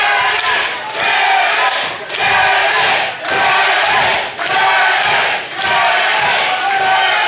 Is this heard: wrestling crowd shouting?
yes